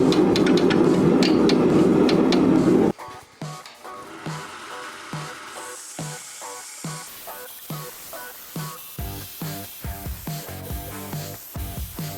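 Sharp metallic taps of a hammer on a steel file, struck repeatedly in an irregular rhythm, close and clear, following a few seconds of louder grinding noise.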